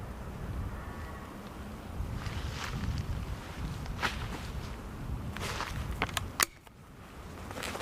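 A single sharp gunshot cracks out near the end during an early-evening wood pigeon hunt in the woods, standing out over steady wind, rustling and soft footsteps.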